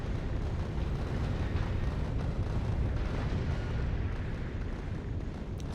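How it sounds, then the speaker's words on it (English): Rocket explosions in the video game Factorio: Space Age, a dense rumbling barrage of blasts and booms merging into a steady roar over several seconds, with no talking. "Like those explosions whoosh, just took out everything."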